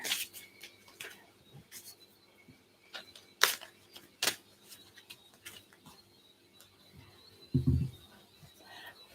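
A deck of tarot cards is shuffled by hand, giving scattered soft riffles and sharp card snaps at irregular intervals, fairly close and alone, with one low thump near the end.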